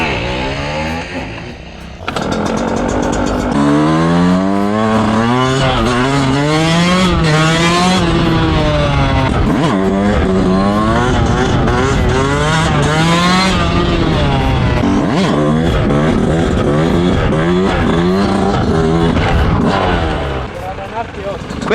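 A Yamaha YZ 125 dirt bike engine runs close and loud, revving up and down repeatedly in rising and falling sweeps for about twenty seconds, with a brief dip near the start.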